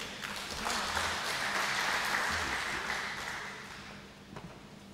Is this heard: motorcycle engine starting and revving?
no